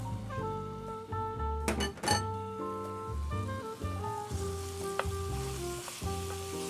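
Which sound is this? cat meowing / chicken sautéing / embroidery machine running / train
chicken sautéing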